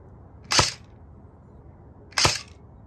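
Two sharp airsoft gun shots fitted with a T238 tracer unit, spaced about a second and a half apart, each a short bright crack close by against quiet outdoor background.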